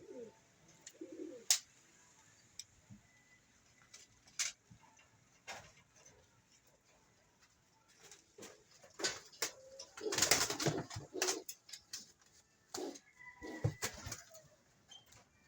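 Pigeons coo softly in a loft after a typhoon, low murmuring calls with scattered ticks, wing flutters and rustles, one louder burst of flapping midway, all fairly faint and close.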